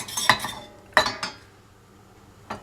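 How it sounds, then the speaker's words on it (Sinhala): A whisk or utensil clinks sharply against a bowl while glaze ingredients for a baked ham are mixed, three or four quick clattering strikes close by, then a pause and one last clink. "කලවම් කරගන්න ඕනේ."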